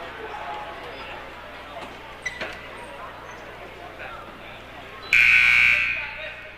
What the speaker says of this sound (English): And the buzzer sounded.